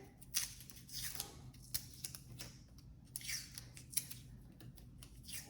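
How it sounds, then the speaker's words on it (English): Several pieces of tape are torn off a roll to secure transfer paper over a sketch, giving short, sharp, close rips spaced irregularly against a quiet background, with no talking. "Let me just get a few more pieces of tape here."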